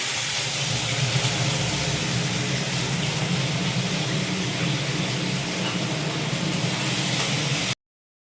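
A kitchen chimney exhaust fan runs steadily with a loud, even broadband whoosh and low hum for most of the stretch, then cuts to silence near the end.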